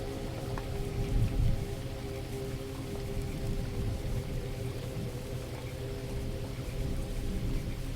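Steady rain falls in a continuous, even patter, with a low rumbling undertone and no voices.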